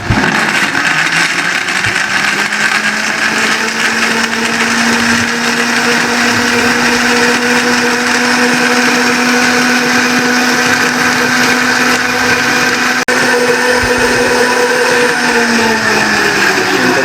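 A blender runs continuously at high speed, blending a peach and milk smoothie with ice, a loud steady whir that holds through the whole stretch with only a brief dip near the end and no talking.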